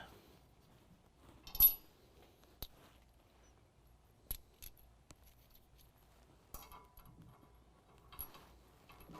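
Faint metallic clinks and taps as a new washer and nut are fitted onto a bolt while installing a 6-inch 4-link lift kit on a 2017 Ford F-250 Super Duty, a handful of small isolated chinks against near silence.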